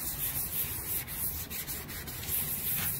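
Sandpaper rubs back and forth across a painted vintage children's desk, dulling the finish with a close, continuous gritty scratching in an uneven stroking rhythm.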